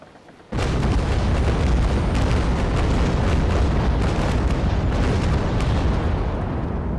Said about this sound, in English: that was a really powerful broadside